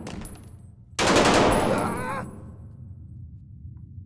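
Gunfire from a weapon in the VR shooter game Blood Trail: a loud, sustained burst erupts about a second in, roughly a second and a half of rapid automatic fire with a ringing tail, heard alone.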